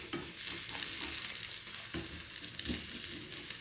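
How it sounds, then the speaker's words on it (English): A cheese omelette cooks in a frying pan, a quiet, continuous hiss and sizzle with occasional soft scrapes and taps from the pan, heard close and without voices. "just pouring the omelette onto the frying pan."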